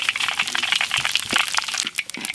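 Mustard seeds crackling and popping in hot oil in a pan, a dense run of sharp close crackles and spits continuing steadily throughout.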